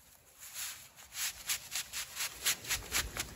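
An 80-inch G4Free golf umbrella is slid back into its fabric carrying case, making a series of soft, rhythmic rustling and rubbing strokes close by, with no talking.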